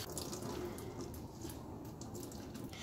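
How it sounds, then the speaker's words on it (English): Cold tap water runs steadily over vegetables being rinsed for a spinach soup, a continuous close splashing hiss with no talk. "run the vegetable underneath the cold water"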